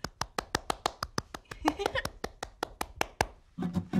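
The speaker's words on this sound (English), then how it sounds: "I'm clapping my hands." A single person claps hands steadily in a children's sing-along, about twenty crisp close claps at an even pace, with brief voices murmuring underneath and a voice entering at the end.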